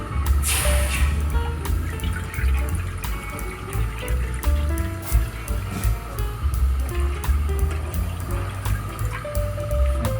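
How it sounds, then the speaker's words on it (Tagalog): Water is poured into a pot for cooking a Filipino snack in a rural home kitchen, a steady splashing pour with drips and clinks of utensils nearby. "Magbigay po muna tayo ng tubig."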